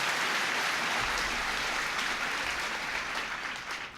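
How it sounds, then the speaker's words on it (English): Audience applause at a 1996 speech by President Clinton in Shoreline, Washington, a steady wash of clapping from a large crowd, loud and sustained throughout, tapering slightly at the end. "you can clap for that, that's the good news"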